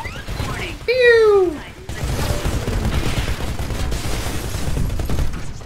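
Gunfire in the game Titanfall: rapid, continuous shooting and crashing bursts at close range, loud and dense, with a short rising synthetic tone near the start and a voice talking over it.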